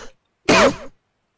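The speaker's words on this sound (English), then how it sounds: "He coughed." A single short, harsh cough bursts out close to the microphone, preceded by a faint bit of sound and followed by silence.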